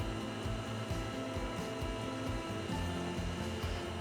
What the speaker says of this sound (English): You want to whisk it. Go just a touch faster.